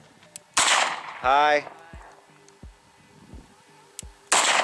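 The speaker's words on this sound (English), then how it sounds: "Three shots. Boom." An uncle's gun fires two loud, sharp shots several seconds apart in a quiet setting, with a brief spoken greeting between them and faint clicks in the lulls.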